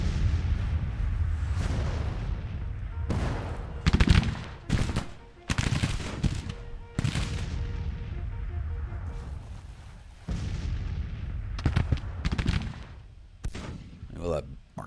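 Massed Civil War artillery batteries firing in the strategy game Grand Tactician: The Civil War, a string of sharp booming blasts and crackling volleys over a rumbling battle din, with sudden loud peaks spread through the stretch.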